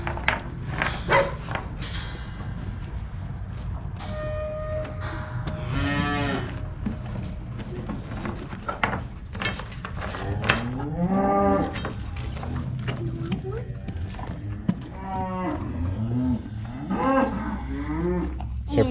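A highland cow moos repeatedly at close range, giving several drawn-out, wavering calls between stretches of shuffling and farmyard background noise.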